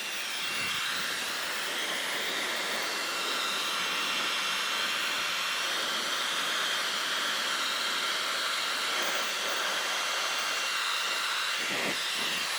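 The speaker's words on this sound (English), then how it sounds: "you really can do this with a hairdryer" A hair dryer blows steadily with a loud, even whoosh, used to heat a carbon hood scoop overlay on a 2022+ Subaru WRX; a couple of faint knocks come near the end.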